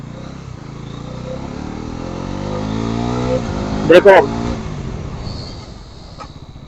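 A Pulsar NS400Z motorcycle revs in off-road mode for a stoppie, its engine pitch climbing steadily before a brief sharp burst of noise near the middle. Someone talks over it throughout.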